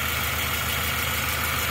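A Subaru Impreza Sport engine runs just after starting, with coolant leaking at the throttle body bypass line; a steady, even idle hum with a faint rhythmic pulse, continuous and close.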